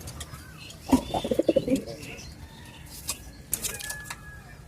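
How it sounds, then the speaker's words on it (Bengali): Male pigeons kept singly in a loft give a short run of low, throaty coos up close, followed by quieter scattered chirps and faint background rumble. "এগুলো আমার নর কবুতর"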